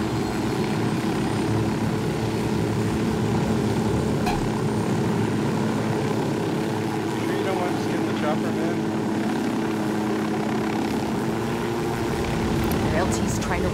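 Helicopter in the video game Ghost Recon Wildlands, a loud continuous rotor and engine drone with a steady hum throughout, while players chat over it.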